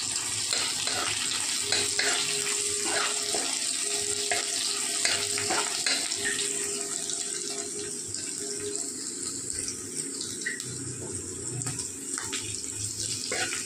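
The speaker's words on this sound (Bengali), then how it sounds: "রসুনটা ভাজা হয়ে এসছে।" Garlic, cumin and green chilli sizzle in hot oil for kadhi pakoda, a steady bright crackling fry close by, broken by the scrape and clink of a spoon stirring.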